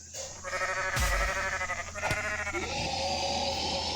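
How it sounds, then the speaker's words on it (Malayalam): Several goats in the video game Goat Simulator bleat in overlapping, wavering cries, close and loud, with two sharp thuds cutting in between the calls. "എല്ലാ ആടുകളും കരയുന്നുണ്ട്"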